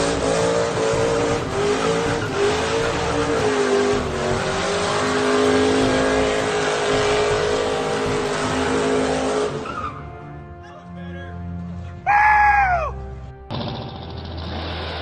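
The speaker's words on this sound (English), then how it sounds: "Under the hood is an estimated 475 horsepower being pumped out by a small black Chevy with a full roller cam setup" A rat rod's small block Chevy engine with a full roller cam, tunnel ram and headers revs loudly up close, holding a rough high drone before dropping off, followed by a couple of sharp rising rev blips.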